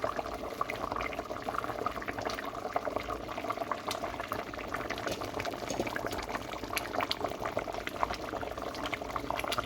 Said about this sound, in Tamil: இப்போ பாருங்கள் குழம்பு நல்லா கொதிச்சுட்டு